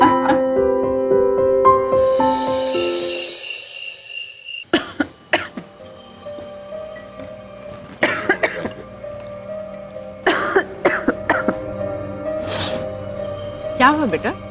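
A person coughs several times, sharp and close, in short separate bursts that come between stretches of talking and a brief passage of music.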